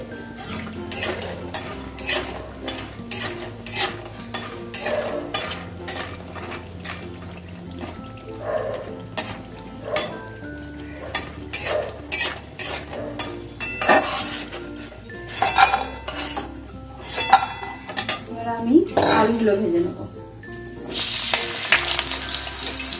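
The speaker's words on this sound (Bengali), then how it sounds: "বড়িগুলোকে আমি একটু লাল লাল করে ভাজবো" Lentil dumplings (bori) fry in oil until reddish, a continuous crackling sizzle punctuated by frequent metal spoon scrapes and clinks against the pan, growing busier and louder toward the end.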